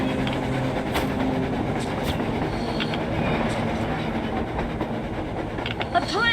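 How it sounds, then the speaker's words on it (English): A train rolls along rails in the video game Metro Exodus, a steady loud rumble with clickety-clack wheel knocks and occasional metallic squeals throughout. "A train! A damn train on the surface!"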